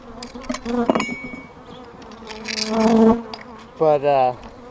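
Honeybees buzz close by around an overwintered top bar hive in wavering drones that rise and fall, several insects passing near with loud swells of humming.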